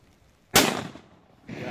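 Fireworks from a consumer Crazy Robot firework set go off with one sharp loud bang, a crackling tail that fades over half a second, and then a second burst beginning just as the clip ends.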